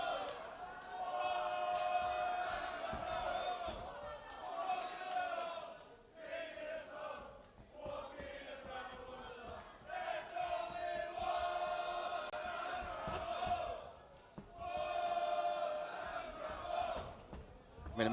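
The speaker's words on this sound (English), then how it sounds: "You can hear the crowd chanting the song of Bramhald" Crowd at a Caged Steel MMA event chants a fighter's song, rhythmic massed voices swelling and dipping in waves, heard from a distance beneath the arena ambience.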